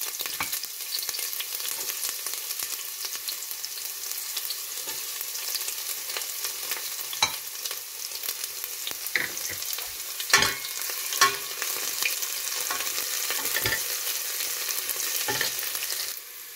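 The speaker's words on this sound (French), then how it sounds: "Une fois l'huile bien chaude, je vais faire revenir mon oignon et l'ail." Onion and garlic fry in hot oil in a saucepan, giving a steady, close sizzle throughout with occasional sharper crackles and spatters.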